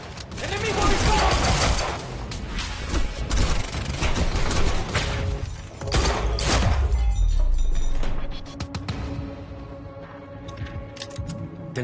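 Gunfire in the video game Quantum Break, loud dense bursts of shots and mechanical clatter running through most of the stretch, with a raised voice calling out over the action.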